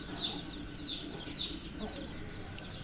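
Naked-neck chickens with their chicks in a farm coop: three short, high calls repeat at an even pace over a faint, low background murmur, quiet and somewhat distant.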